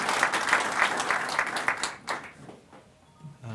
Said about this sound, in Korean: 박수로 맞으시기 바랍니다.